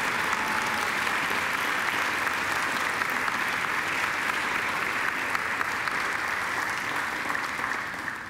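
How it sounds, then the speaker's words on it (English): Graduates at a Macquarie University graduation ceremony give a long, dense, sustained round of applause to their families and friends, a steady wash of many hands clapping in a large hall that tails off only at the very end. "And now I invite you to give them a mighty round of applause."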